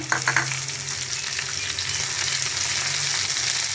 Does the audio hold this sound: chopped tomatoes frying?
yes